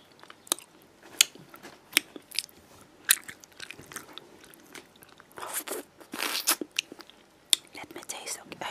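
Haribo Creamy Strawbs candies are bitten close to the microphone, giving a series of sharp, squishy crunches and chewing sounds spaced irregularly, with a busier cluster of bites in the middle.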